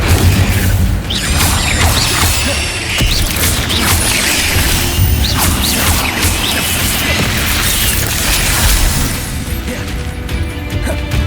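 Incendio fire spell cast in the Hogwarts Legacy video game, a loud, dense roar of fiery bursts and crashing booms that runs continuously throughout, with mixed game effects layered on top.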